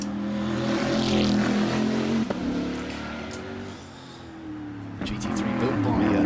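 An M-Sport-built GT3 race car from Cumbria drives past at the Goodwood Festival of Speed, its engine roaring and shifting pitch as it goes by, partly covered by a commentator talking throughout.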